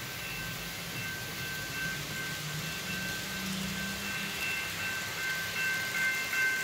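An N scale model train runs along a layout, giving off a soft, continuous mechanical rumble and whir that stays steady and faint under a hissing background.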